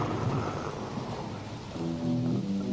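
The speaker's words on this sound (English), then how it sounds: "we got to put in some rain and thunder" Storm sound effects of steady rain with rumbling thunder open a song, a continuous wash of rain with low rolls, joined near the end by a faint tonal keyboard note.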